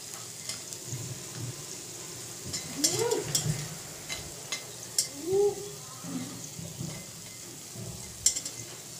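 Biuli lentil dumplings (bori) frying in hot oil make a continuous sizzle, broken by a few spoon scrapes and stirring clinks in a home kitchen.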